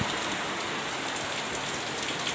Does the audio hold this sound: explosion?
no